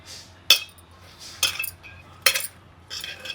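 Spoon knocking and scraping in a bowl while gobi pakoda batter is mixed, four distinct clinks spaced roughly a second apart over a faint low hum, close and fairly clear.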